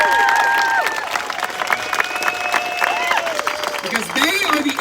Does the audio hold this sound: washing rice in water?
no